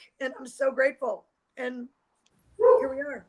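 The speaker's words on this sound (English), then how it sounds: "Sorry for my barking dog." A pet dog barks in a home in short, excited bursts, close and fairly loud, alternating with a woman's speech.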